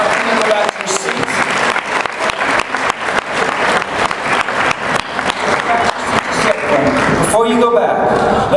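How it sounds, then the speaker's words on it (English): Audience applause at a Tiki Oasis show, dense and loud clapping from a crowd filling the room steadily for several seconds. "So let's give these people a round of applause for helping me out tonight."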